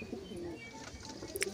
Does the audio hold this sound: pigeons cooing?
yes